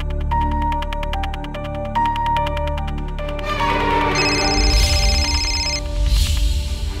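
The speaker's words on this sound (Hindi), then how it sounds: "ये राघव फोन क्यों नहीं उठा रहा" A telephone ringtone repeats over and over, unanswered, in a Hindi crime drama, with a steady electronic melody looping loudly alongside background music and no one speaking.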